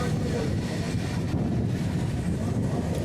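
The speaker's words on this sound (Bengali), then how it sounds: "এই ট্রেনটি হলো ট্রেন নাম্বার একশো পঁচিশ দশ কাছে থেকে ইয়াসবানপুর যাওয়ার এক্সপ্রেস ট্রেন" An express train, number 12510 bound for Yesvantpur, rushes past on the adjacent line beside a Panskura local running from Howrah toward Uluberia. Its steady, loud roar and rumble continues throughout without a break.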